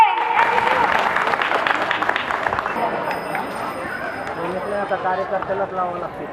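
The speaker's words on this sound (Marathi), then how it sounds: "प्रत्येक माता रमाईसाठी एकदा जोरदार टाळ्या होऊन जाते" An audience at a live song performance bursts into loud applause that fades within a few seconds as a voice and tonal sound carry on.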